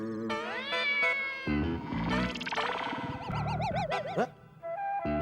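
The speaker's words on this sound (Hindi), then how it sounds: "बिल्ली की आवाज बेडरूम में से भी आ रही है, यहाँ से भी आ रही है।" Several loud, close meows follow one another, some long and wavering, others short and rising, overlapping into a noisy chorus of cat cries.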